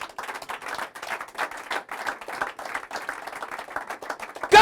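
A church congregation claps steadily in dense, continuous applause for Jesus, many hands overlapping at close range, with scattered cheers and a louder burst right at the end.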